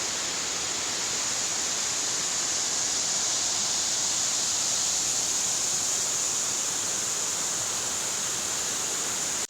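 A powerful waterfall in the Wallowa Range roars steadily, a dense, unbroken hiss of falling water close by, loud and constant with no other sounds.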